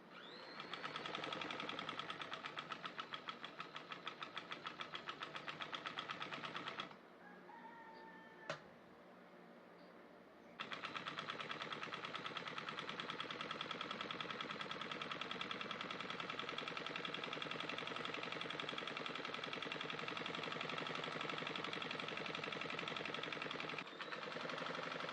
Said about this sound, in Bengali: তো আমি কাপড়টাকে সেলাই করে নিচ্ছি।